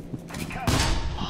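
Needle gun firing in F.E.R.A.2, heard as a short burst of sharp, close shots that begins partway in and holds steady to the end.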